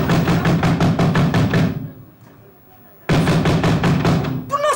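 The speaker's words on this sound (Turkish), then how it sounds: "Ne yumrukluyorsun kapıyı?" Heavy fist pounding on a door, a rapid series of loud thuds, then a pause before another burst of pounding; a voice is heard near the end.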